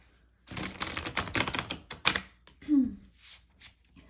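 A final close-up shuffle of a tarot deck before an oracle card pull, with a few seconds of crisp riffling and clicks, then a brief low voice sound at the end.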